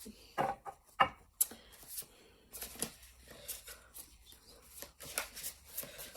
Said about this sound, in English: I'm just shuffling for you, Alicia.